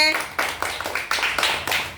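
Children in a classroom clap together for a classmate, about six sharp, loosely timed bursts of claps over two seconds, near and moderately loud with no talk.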